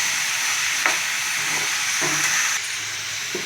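Green chillies and capsicum hiss and sizzle steadily in a hot pan for gravy, with a few soft stirring scrapes and clinks over the continuous frying.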